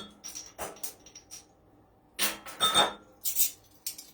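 Spoon clinking and scraping against a glass bowl while yeast is measured in for pretzel bread dough, a series of light, close chinks and taps spaced unevenly, with short quiet gaps between.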